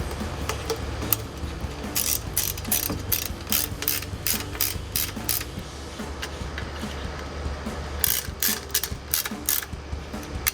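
A 4mm Allen key tightens nuts with washers onto a K&N Series 63 AirCharger cold air intake on a 2022-2024 Toyota Tundra, giving repeated fast ratcheting clicks in bursts, fairly close, over a low steady background hum.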